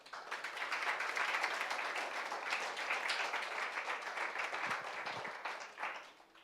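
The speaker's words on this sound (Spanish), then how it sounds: "Yo no sé si quisieras darle un aplauso al Señor por eso" Church congregation applauding during a sermon: sustained clapping for about six seconds, fairly faint and distant, with no talk over it.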